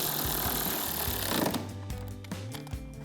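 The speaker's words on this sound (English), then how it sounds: "We'll take a 13 mil socket to tighten it down." A socket wrench on a 13 mm bolt at the grille of a Ford F-150 gives a rapid, steady ratcheting clatter, close and fairly loud, slowing into a few separate clicks near the end.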